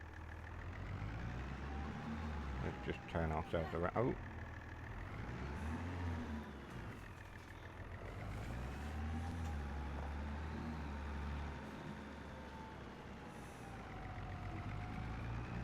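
Tractor engine running in the video game Farming Simulator 25 on an island farm map, a steady low drone throughout with brief hissing and clunking bursts early on, under a voice talking at the start.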